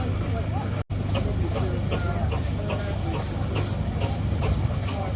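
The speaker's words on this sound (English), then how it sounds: "the next one coming around is a little tractor" Mann steam tractor, once used as a winch tractor, chugging past in a steam rally parade, a low steady rumble with rhythmic exhaust beats under an announcer's voice and crowd chatter.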